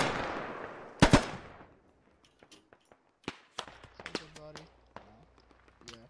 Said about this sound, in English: Lima's now getting fire returned on him from some range